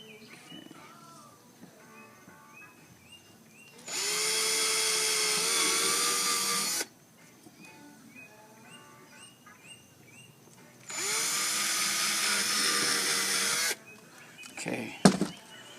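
A power drill drives countersunk screws into a plastic kayak rod holder in two sustained, whining bursts of a few seconds each. Quiet pauses separate them, and a short clatter follows at the end.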